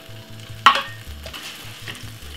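Corned beef and cabbage frying in a pot as a spoon stirs, a brief sharp sizzle burst followed by quieter intermittent scraping and crackle, close up with no talking.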